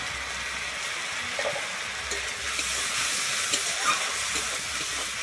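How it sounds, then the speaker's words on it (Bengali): Tomatoes fry in a pan with turmeric and salt, giving a steady close hissing sizzle that holds evenly throughout with small crackles, and no voices. "আমি টমেটোটা কিন্তু ভালোভাবে ভেজে নেব, টমেটো থেকে যাতে আমার কাঁচা গন্ধটা চলে যায়।"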